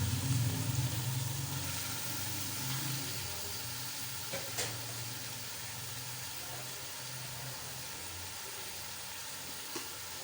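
One kilogram of chicken sizzles as it fries in a pot for chicken pilau, a steady broadband hiss that stays loud at first and eases slightly over time, with faint stirring clicks and no talking.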